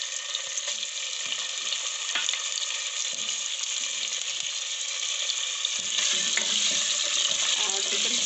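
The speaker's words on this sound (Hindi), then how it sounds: "अब हम इसी ऑयल में चिकन को" Chicken frying in oil in a pan, a steady bright sizzle that continues throughout at close range, with faint stirring or scraping and no voices.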